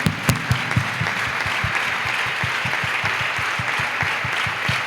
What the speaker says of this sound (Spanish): Denle un aplauso al Espíritu Santo de Dios.